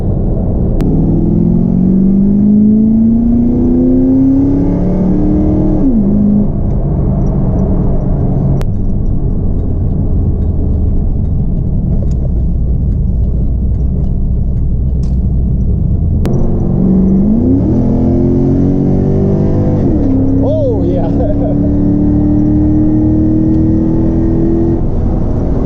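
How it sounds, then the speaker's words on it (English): A Chevrolet Camaro SS exhaust roars close up as the car accelerates hard, engine pitch climbing through the gears in two long revving pulls with a lower rumbling cruise between them, with no talking. "You really hear that exhaust when you step into it."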